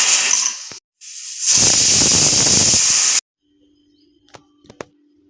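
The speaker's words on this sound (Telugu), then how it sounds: "ఇదంతా పొయ్యి మీద పెట్టేసి ఒక 4 విజిల్లు రానిద్దాము" A pressure cooker of dal with tomato, onion and green chilli paste lets out a loud steam hiss in two bursts, the second longer, then falls quiet apart from a few faint clicks.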